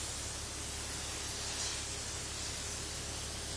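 A steady, loud hiss of sprayed air or water blasting loose dirt out, continuous and close for several seconds with no break.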